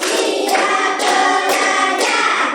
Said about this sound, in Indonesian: Tepuk 1 sampai 5.